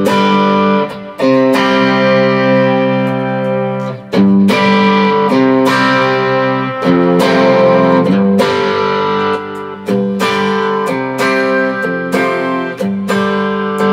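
Electric guitar through a clean boost pedal plays sustained chords with a slightly gritty, boosted edge but no heavy distortion, strummed every couple of seconds, loud and close.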